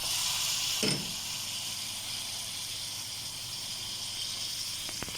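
Chicken hits a hot pan seasoned with ground cumin, salt and coriander, giving a steady broadband sizzle that holds evenly throughout after a brief thump near the start.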